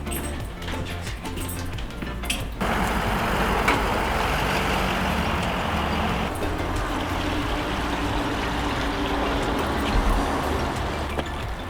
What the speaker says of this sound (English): Oh man, I think the trucks are here.